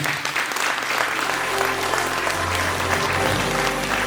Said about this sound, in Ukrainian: Давайте ще раз оплесками подякуємо нашим журі.